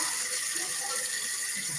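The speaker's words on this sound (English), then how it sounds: "let me wash my hands real quick" Tap water runs steadily into a sink during handwashing, a close, continuous hiss with no talking.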